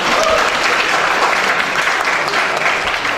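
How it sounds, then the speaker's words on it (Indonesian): Audience applause at a national seminar in Bali, loud, dense clapping from a crowd that continues evenly from start to finish. "Ya, tepuk tangan untuk beliau."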